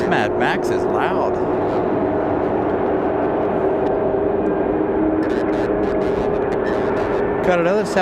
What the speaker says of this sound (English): Got another Southwest departure.